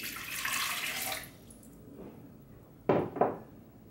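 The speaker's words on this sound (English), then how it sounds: "I'm pouring in 3/4 of a cup of water." Water pours into a Blendtec Total Blender jar for about a second, a soft splashing stream, followed by quiet and two sharp plastic knocks.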